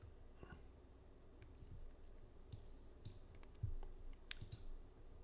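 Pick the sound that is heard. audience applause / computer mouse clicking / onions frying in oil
computer mouse clicking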